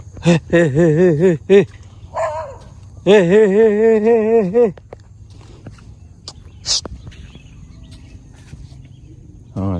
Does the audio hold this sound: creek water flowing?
no